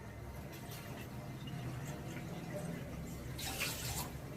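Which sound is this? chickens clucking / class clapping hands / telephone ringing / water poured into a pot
water poured into a pot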